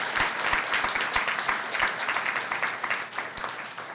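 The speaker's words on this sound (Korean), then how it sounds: "박수" An audience in a church claps to honour a cello performer, giving a dense round of applause with some louder individual claps that tapers off toward the end.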